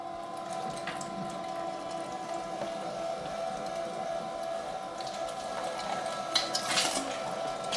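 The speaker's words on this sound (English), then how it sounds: "Let's grind that meat." A meat grinder fitted with a 10 mm plate works pork for longaniza sausage, giving a steady low mechanical whir throughout, with faint clinks of utensils near the end.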